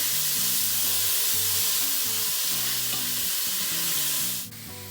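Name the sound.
onion frying on high heat in pan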